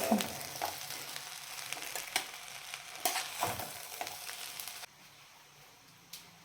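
Kasuri methi stirred into pulao frying in a pan, with a steady close sizzle broken by scraping stirs, quieting toward the end.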